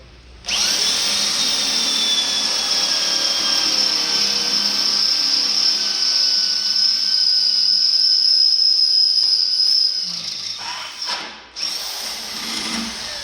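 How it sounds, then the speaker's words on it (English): A power drill bores a hole through a Chevy S10 frame while installing rear cab mounts for a 1948 Chevy truck, a loud steady high whine held for about ten seconds before winding down. "I'm going to drill this hole."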